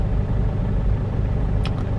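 Heavy city traffic rumbles steadily close by, a dense low drone of car engines and tyres with a brief higher whine near the end.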